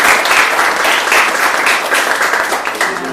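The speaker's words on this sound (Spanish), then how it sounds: "le damos un aplauso a Rebeca." Loud, close applause from a group at a childbirth workshop honours a presenter, with dense clapping that stays steady from start to finish.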